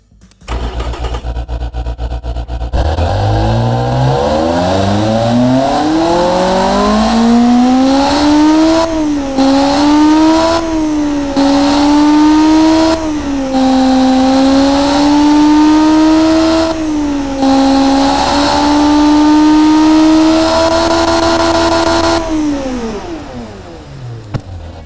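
An Ariel Atom 500 V8 replica engine, a lightweight 131 kg unit, starts with a crank and catches, then revs repeatedly in rising and falling sweeps. The sound is loud, close and sustained before it winds down at the end.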